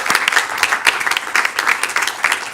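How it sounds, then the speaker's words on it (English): A live debate audience claps in a brisk, dense burst of applause, individual hand slaps audible throughout the short stretch, loud and close with no voices. "So give yourself a round of applause"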